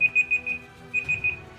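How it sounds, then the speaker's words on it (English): A timer alarm goes off indoors: two quick bursts of rapid, high electronic beeps, four or five beeps each, steady and moderately faint, with no voices. "Sorry, timer was going off or something."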